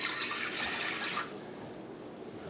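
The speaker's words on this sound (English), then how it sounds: "This is filtered water." Filtered water runs from a sink filter tap into a measuring cup while bread is made, a bright, steady splashing stream that stops abruptly after about a second, leaving a quiet room.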